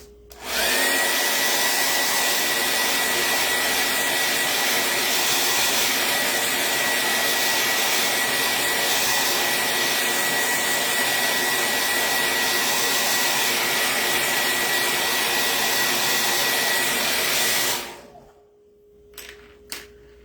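A hair dryer blows steadily and loudly at close range while drying a Dollar Tree cutting board craft makeover, a constant airy roar for most of the time before it switches off, leaving near silence and a couple of small knocks.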